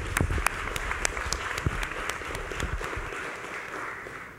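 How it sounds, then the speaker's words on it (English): Applause from a symposium audience honoring a guest, a dense round of clapping with sharp claps up close, starting strong and gradually thinning and fading over several seconds. "I want to give you a round of applause."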